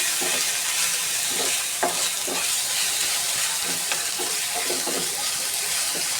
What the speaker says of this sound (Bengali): আদা রসুন বাটাটা কিন্তু ভালোভাবে নেড়ে মিক্স করে নিতে হবে